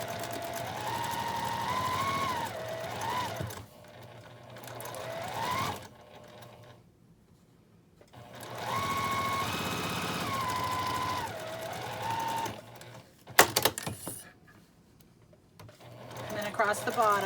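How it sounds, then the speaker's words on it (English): Sewing machine stitching a quarter-inch seam down the side of a fabric drawstring gift bag, whirring steadily in long runs broken by short pauses. "I'm going to sew with a 1/4 inch seam"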